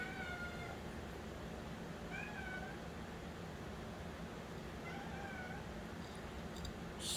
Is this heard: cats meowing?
yes